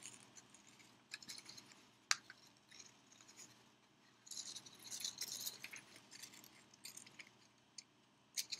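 Paper is snipped into a small quarter-sized circle with scissors for a Millennium Falcon craft model, sounding as faint, close, intermittent cuts and crisp rustles in a quiet room.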